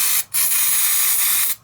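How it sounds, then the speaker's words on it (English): Carburetor cleaner sprayed onto a Lawn Boy 4651 mower, two long close hissing bursts separated by brief pauses. "I cleaned it up with the carb spray"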